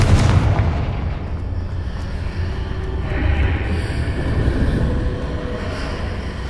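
A Confringo blasting spell detonates in Hogwarts Legacy, a loud booming blast that rolls into a long rumbling roar and decays over several seconds.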